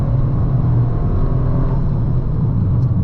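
A 2024 Toyota GR Corolla hot hatch at full throttle, a steady loud low engine drone and rumble heard from inside the car, with no voices.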